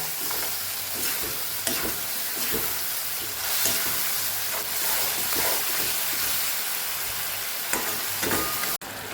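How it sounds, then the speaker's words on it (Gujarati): Kathiyawadi-style okra curry with yogurt and spices simmers in a pan, giving a continuous hissing sizzle with soft bubbling and occasional stirring scrapes, and no talking. "સરસ આપણે ઉકળવા દઈશું શાકને।"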